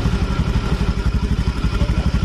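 A 2018 Honda Beat motorcycle engine runs close by with a rough, noisy clatter, its fast steady pulsing throb continuing unbroken with no talking.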